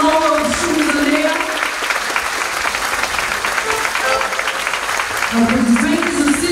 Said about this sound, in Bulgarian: Аплодисменти за всички изпълнители, които тази вечер ще ви покажат своя талант.